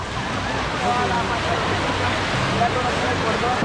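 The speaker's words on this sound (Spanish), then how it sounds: "ya prendió la piscina de olas, como se pueden dar cuenta" Waves crash in the wave pool at a water park in Cali, a loud continuous churning rush of water with broad surf noise throughout.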